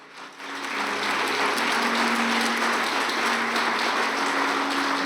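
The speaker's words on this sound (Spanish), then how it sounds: "¿Cuánto le dan un aplauso a Jesús? Fuerte ese aplauso." Church congregation applauding strongly in a large hall, the clapping swelling quickly and holding as a dense, steady wash for several seconds with no talk over it.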